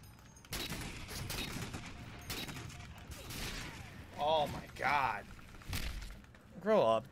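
Sniper rifle shots in Halo multiplayer, a handful of sharp separate cracks spread through the stretch among other game noise, while a voice talks over them in short bursts.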